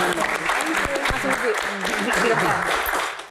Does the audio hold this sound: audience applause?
yes